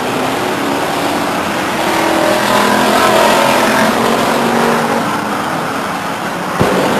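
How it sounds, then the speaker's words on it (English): Stock cars race around Stockton 99 Speedway, a loud, steady roar of several engines passing close, swelling and fading slightly with a brief sharp knock near the end. "Gabor inside, Clark on the outside, and Clark goes a lap down now"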